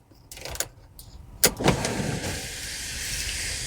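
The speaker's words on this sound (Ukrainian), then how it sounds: "І люк е, відкрию, покажу." The sunroof on a 2017 VW Passat 1.8 automatic opens with a motor, starting after a couple of clicks and settling into a steady whirring drone, heard close inside the cabin with no talking.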